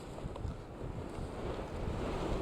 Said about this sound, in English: I need to get down out of this wind, and down onto that track.